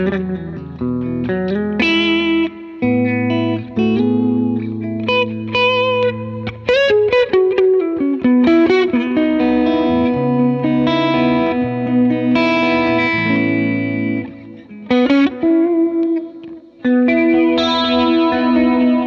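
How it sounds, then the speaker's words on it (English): Electric guitar played through an analog delay, reverb and chorus pedals, with sustained chords and single notes ringing into washy, shimmering repeats and a wide ambient tail, loud and close with no talking. "I always keep this analog delay on in the background and a bit of reverb, some chorus"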